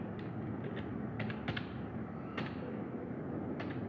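Computer keyboard typed on at a desk, a few soft, scattered key clicks in short bursts over a low steady background hum, fairly quiet and close, with no voices.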